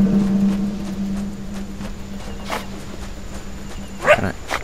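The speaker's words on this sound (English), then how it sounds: "Dude, badgers actually bark?" A badger gives a short bark in a video game, one brief yap near the end over a low steady hum and background game ambience.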